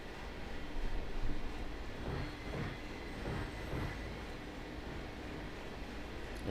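A Union Pacific train rumbles in the Run8 train simulator during switching at Bakersfield, picking up speed as a steady, low, broad rolling drone with faint rhythmic clatter.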